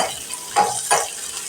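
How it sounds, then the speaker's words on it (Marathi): Soft, steady sizzle of whole almonds and cashews frying in ghee, with two quick stirring scrapes a moment apart. "ड्रायफ्रुट्स आहेत ना ते तुपामध्ये तळून घेते"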